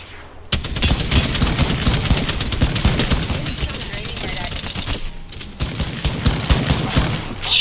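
Rapid bursts of gunfire from a battle royale game firefight ring out loud and dense almost without pause, with one brief gap near the end, and a faint voice underneath.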